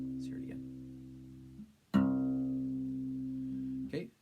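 Acoustic guitar's sixth string, tuned down to low C, plucked twice, each note ringing out and slowly fading, close and clear with no talk.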